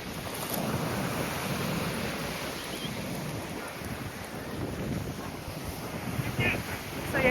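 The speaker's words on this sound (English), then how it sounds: "There is your sea." Sea waves and wind on the beach at Mablethorpe, a continuous broadband wash of surf mixed with gusty wind buffeting the microphone, steady and moderately loud with no voices.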